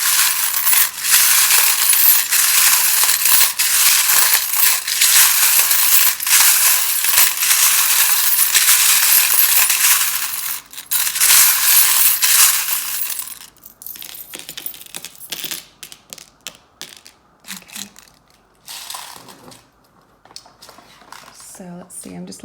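A deck of tarot cards is shuffled loudly, a dense, continuous papery riffling and rustling for about thirteen seconds before settling into softer, scattered card handling and taps, with a voice faintly present.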